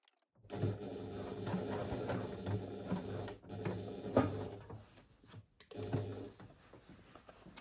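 Domestic sewing machine stitching the bottom of a fabric pouch, running in steady mechanical bursts with short pauses between runs, close and fairly loud, with no talking.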